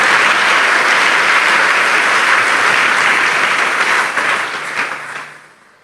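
A church congregation breaks into sustained loud applause and cheering, a dense wash of many hands clapping that holds steady and then fades out toward the end.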